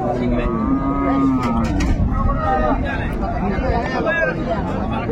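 Cows and calves mooing at a busy rural cattle market in Raniganj, Dinajpur, with several drawn-out moos near and far over a constant crowd murmur of people talking.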